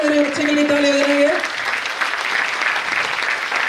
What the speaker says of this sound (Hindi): एक बार मेरे बच्चे के लिए ताली बजाएंगे।